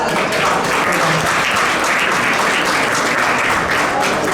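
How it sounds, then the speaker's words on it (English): Dense, steady applause from an awards gala audience honoring speakers and awardees, loud and sustained throughout without a break. "Please give them a round of applause."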